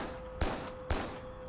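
Two loud gunshots in the video game Carrion, evenly spaced about half a second apart, each a sharp broadband blast with a short ringing decay over a steady low game hum.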